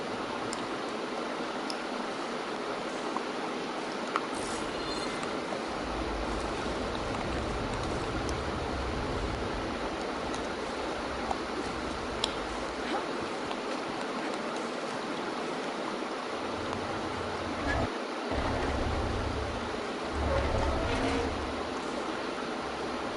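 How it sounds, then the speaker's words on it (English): Steady rushing water circulating through a room in the video game Horizon Forbidden West, a continuous flowing wash with low rumbling swells underneath and no voices. "Aloy, I can hear water in the room again"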